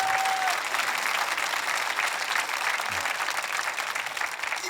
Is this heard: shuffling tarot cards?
no